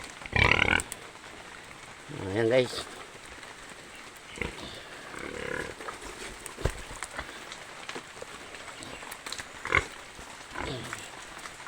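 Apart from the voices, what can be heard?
pregnant pig grunting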